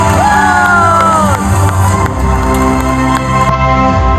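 Loud crowd cheering and whooping with shouts and applause for the One Man Show award winner at the Cine Ulagam Digital Awards, a steady roar of voices filling the hall throughout.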